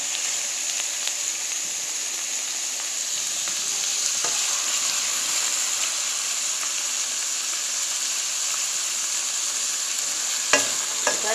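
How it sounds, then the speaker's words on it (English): Seasoning stirred as it fries in a pot for Jamaican fish head, giving a steady, close sizzle and crackle with scraping stirs, loudest near the end, and no voices. "Guys, I am turning my"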